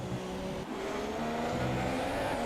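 Formula 1 race cars, a Williams and a Ferrari, racing in a PS4 F1 video game at the Canada round, a steady high engine whine with shifting tones as the cars run close together, fairly quiet.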